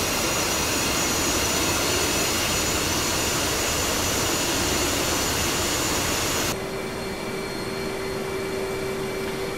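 F/A-18 Hornet jet engines idling while taxiing in DCS World on the Caucasus map, a loud, steady turbine roar and whine that drops abruptly to a lower, quieter hum with a tonal drone near the end.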